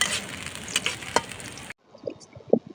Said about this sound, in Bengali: পেঁয়াজগুলো আমি ভালোভাবে লাল লাল করে ভেজে নিব।